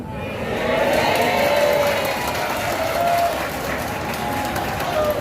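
Applause from a parish gathering preparing for a papal Mass, with a steady wash of clapping that swells early, holds, then eases slightly while a crowd murmurs underneath.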